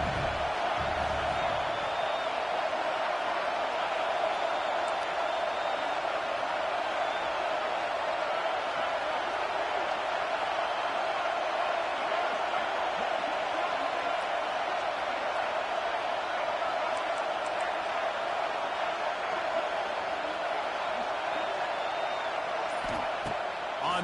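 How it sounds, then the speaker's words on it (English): Home crowd roaring continuously at a Georgia versus Ole Miss college football game, a dense, steady wall of cheering and whoops filling the stadium with no letup. "how nice is it to have the home crowd going absolutely bananas?"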